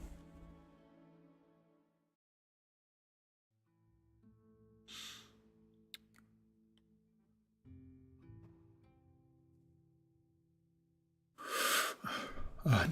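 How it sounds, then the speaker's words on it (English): A breathy, drawn-out yawn from a character in the fantasy game Avowed, set among other sparse in-game sounds with quiet gaps, before a loud noisy burst near the end. "Oh, another yawn."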